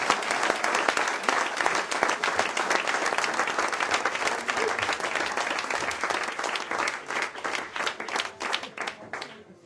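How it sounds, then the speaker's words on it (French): A crowd applauds at a Roland Garros event, starting as a dense burst of clapping that gradually thins into distinct, rhythmic individual claps toward the end, with faint voices mixed in. "je pense qu'on peut tous t'applaudir très fort"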